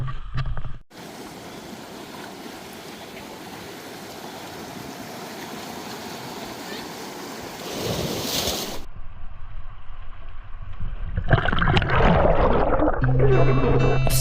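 Sea swell rolling onto a secluded beach, a steady broad wash of surf with wind buffeting the microphone, growing rougher and louder toward the end as waves break close by.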